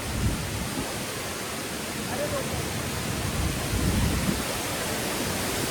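Jujjar waterfall in the Karsog Valley of Himachal Pradesh pours down as a dense, unbroken rushing roar. The broadband hiss is steady and close, with slight surges in the low end.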